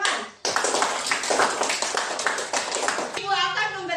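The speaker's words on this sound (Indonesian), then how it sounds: "Tepuk tangan" A school class claps together in a quick, lively burst, many small hands beating fast and close for about three seconds before a teacher's voice comes in at the end.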